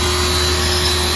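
A car wash machine runs with a loud, steady motor drone and whine, constant and close throughout the short stretch.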